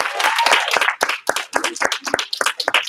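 Scattered audience clapping at a belt graduation ceremony, sharp uneven hand claps bursting out in irregular clusters, fairly close and lively for about three seconds, with no talking over it.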